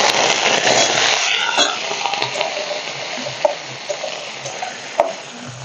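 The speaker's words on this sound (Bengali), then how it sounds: "আলুগুলো আমি ভেজে নেব" Small cut potato pieces fry in hot oil in a wok with a loud, close, crackling sizzle that eases slightly over time, broken by a few sharp utensil clacks and no speech.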